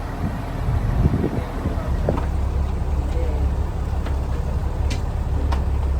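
A steady low river boat engine drone runs throughout with wind rumble on a Mekong River cruise from Chiang Rai, Thailand to Luang Prabang, Laos; a person talks briefly near the start over the continuous hum.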